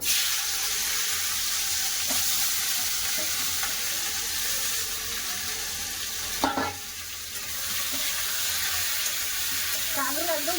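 Spiny gourd (kakrol) fries in hot mustard oil with a steady, loud sizzle throughout, a brief clatter midway and a faint voice toward the end.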